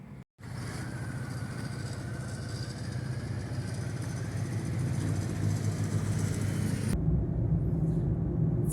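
A T-25 tractor engine runs steadily nearby, a continuous low diesel rumble that grows slightly louder and heavier toward the end.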